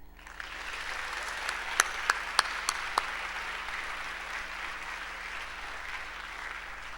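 Sustained applause from a large audience fills the whole stretch, with a few sharper individual claps standing out near the start.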